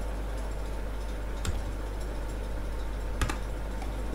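Keys clack on a computer keyboard during accounting data entry in MS Access: two sharp keystrokes about two seconds apart, close up over steady background hiss, with no talking.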